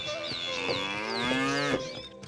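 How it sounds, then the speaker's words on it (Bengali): A cartoon cow lows in a village field among rice paddies, one long drawn-out moo with wavering pitch, clear and fairly close, with nothing else around it. "মাঠে গরুদের ডাক ভেসে আসে একটা আলস্য"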